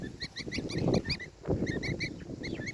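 Geese honk and call in bursts, fairly close and loud, with a repeated nasal two-note pattern over low rustling and background noise, as young goslings are kept nearby.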